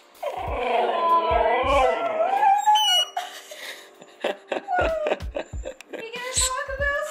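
A dog howling in long, wavering, rising and falling tones, loud and close, with short breaks and yelping bursts near the end.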